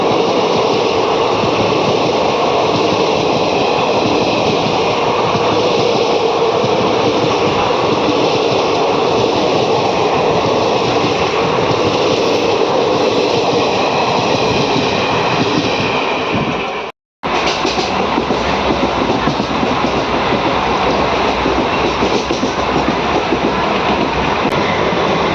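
A Kacheguda–Nizamabad DEMU train runs steadily near Nizamabad Junction, its loud continuous rumble and rail noise filling the whole stretch, with a brief sharp dropout near the end before the running noise resumes.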